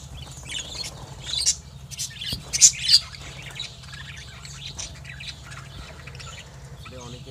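Pet birds kept for egg laying chirp and squawk in a cluster of sharp, bright calls, some louder and close, over a low steady background hum.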